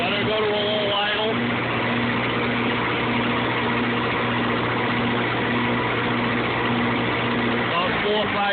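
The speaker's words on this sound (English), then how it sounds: "Let her go to a low idle" An old Lincoln SA-250 pipeliner welding machine's engine settles down to a low idle, a steady droning hum with a slight drop in pitch near the start and again near the end, running alone with no talking.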